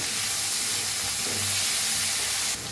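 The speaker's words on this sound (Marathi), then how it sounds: "आता टमाटो टाकूया, कोथिंबीर, आणि ह्याला भाजून घेऊया" Tomato, onion and green chili fry in a pan with coriander, ginger-garlic paste and oil, giving a continuous loud hiss and sizzle that cuts off abruptly at the end.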